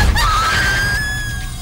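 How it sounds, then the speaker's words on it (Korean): A sustained, loud scream in a haunted-house scene from a Korean drama, a single drawn-out high-pitched cry holding steady for nearly two seconds. "비명소리 누구예요?"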